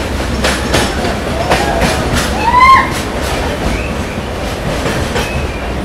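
A Mangaluru to Bengaluru passenger train with sleeper and third AC economy coaches runs steadily, its wheels clattering over rail joints in a continuous rumble, with a brief squeal of wheels near the middle.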